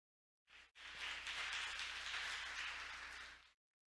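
Audience applause at a 2022 Korea Maritime Week conference session welcomes a speaker on alternative fuels for maritime decarbonization. A dense, steady clapping starts abruptly, dips for an instant, then holds for about three seconds before cutting off sharply.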